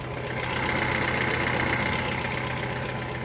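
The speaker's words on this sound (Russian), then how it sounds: "Так, ровненько стал работать движок." A Moskvich 407 car engine idles smoothly after a carburetor adjustment, running close up as an even, continuous low hum with a faint rhythmic tick and no voices.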